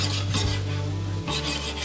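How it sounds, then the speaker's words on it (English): A pan of lemon chicken pasta sauce sizzles and scrapes as it is shaken, a steady close rasping frying noise with a brief dip and swell near the middle, no voice present. "You notice how as I shake the pan,"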